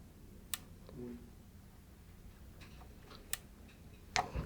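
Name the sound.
clicking of differential calibration potentiometer being turned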